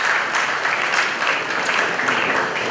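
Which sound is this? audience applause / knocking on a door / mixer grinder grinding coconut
audience applause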